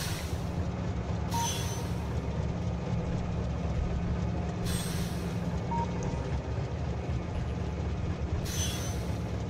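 Train sound effects from the Factorio video game: a continuous low mechanical rumble of a moving early-game train with periodic brighter whooshing bursts, steady and moderately quiet, no speech.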